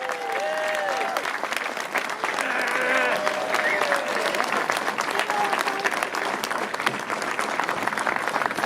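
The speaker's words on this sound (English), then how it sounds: "give a massive fan zone round of applause for Derek Johnstone" A fan zone crowd at a Rangers event gives sustained applause and cheering for Derek Johnstone, a dense clapping that holds steady for several seconds with some voices mixed in.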